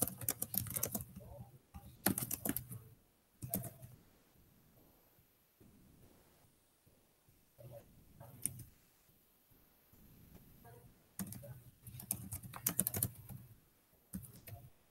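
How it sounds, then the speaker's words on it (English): Bursts of clattering keystrokes on a computer keyboard, close and fairly loud, separated by quiet pauses with faint background murmur. "Kind of hard to type and talk at the same time."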